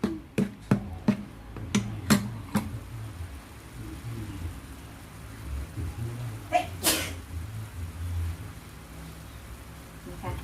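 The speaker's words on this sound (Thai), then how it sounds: "ไปแอบจาม" A single sharp sneeze bursts out in a home kitchen during preparation of a basil stir-fry with meatballs, following a run of quick tapping clicks and quiet room noise.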